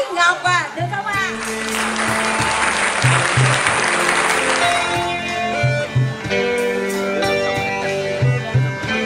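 An audience at a temple Vu Lan festival performance applauds a singer with sustained, loud clapping that swells and holds for several seconds while music plays over it.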